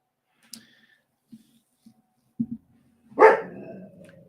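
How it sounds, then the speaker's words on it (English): One loud, close dog bark with a short trailing growl, preceded by a few faint scattered thumps and small noises in an otherwise quiet room. "Oh, sorry for the dog."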